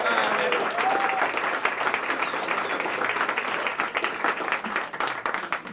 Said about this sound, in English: now we're going to do the applause like you really liked it,